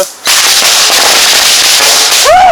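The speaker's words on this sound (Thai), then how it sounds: "อันนี้คือระเบิดเหรอใช่เรียบร้อยครับระเบิดไป" A timed bomb goes off in a first real play session, giving a loud, sustained roaring burst of noise that lasts about two seconds before a short voice cuts in at the end.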